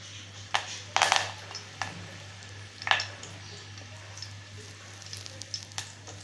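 Curry leaves dropped into about two big spoonfuls of hot oil for Malvani misal crackle in sharp bursts near 1 s and 3 s, then settle into a faint, steady sizzle with occasional pops over a low hum.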